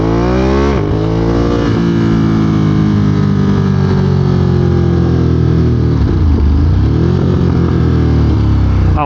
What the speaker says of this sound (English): I took the DB killers out of the Termi exhaust. Oh my god, do they sound good.